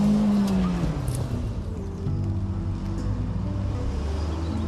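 A Puma car drifts on the handbrake with a brief squealing tire skid at the start, then rough engine rumble and skidding noise that stay close and loud throughout.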